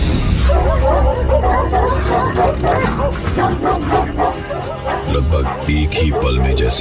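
A pack of dogs barks and yips continuously in a noisy jumble, loud and close, while a voice speaks over the commotion.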